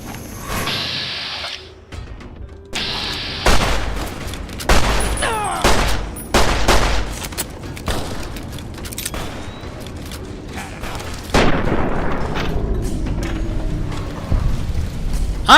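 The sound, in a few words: gunfire from a gun in video game Fallout: New Vegas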